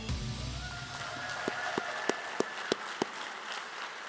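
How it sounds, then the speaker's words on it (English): At a Teacher of the Year ceremony, a handful of distinct, sharp claps ring out one after another at a fairly quick, even pace over a low background hum, sparse rather than a full crowd ovation. "Big round of applause. Keep it going for Ms."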